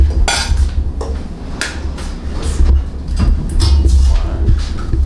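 Eggs beaten with a whisk in a bowl: rapid clattering and scraping of metal against the bowl in uneven bursts, close and fairly loud, with no talking.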